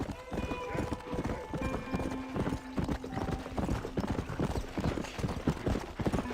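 Horse hooves clip-clop in a fast, steady galloping rhythm in the Red Dead Redemption video game, close and prominent, with a brief whinny and game sounds mixed in.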